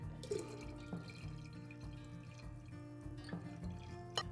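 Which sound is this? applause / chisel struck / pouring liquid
pouring liquid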